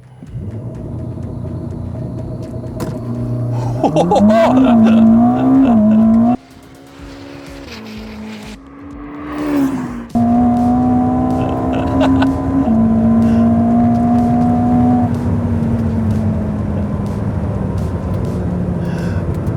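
A Ferrari SF90 Stradale engine revs up, then roars through a launch-control start with rising pitch and gear changes, its loud exhaust note settling into a sustained high-speed drone.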